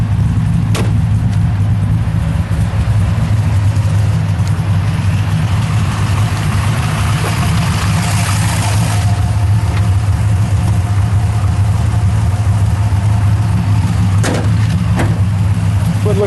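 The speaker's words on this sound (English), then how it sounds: "Maybe I'll just drive around the shop here" A Mazda RX-7 rotary engine runs steadily during a short drive around a shop, a loud, continuous low drone with a few faint knocks and rattles layered on top and no talking.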